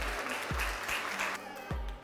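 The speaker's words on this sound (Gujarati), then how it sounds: "તૃપ્તિ માટે જોરદાર તાળીઓ થઈ" A crowd at a game show event claps for a contestant, a brief patter of applause at moderate level with a few low thumps mixed in.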